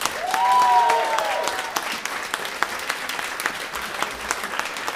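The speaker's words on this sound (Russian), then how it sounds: "вы наполнили теплыми эмоциями, вашими яркими аплодисментами этот зал" An audience in a concert hall gives sustained, dense applause after a saxophone orchestra and quartet concert, loud and even throughout, with a brief whistle near the start.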